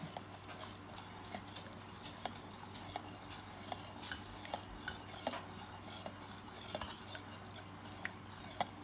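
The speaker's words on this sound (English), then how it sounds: "We're going to mix." Spoon stirring granulated sugar and honey into hot chamomile tea, with faint, irregular clinks against the cup over a low steady background hum.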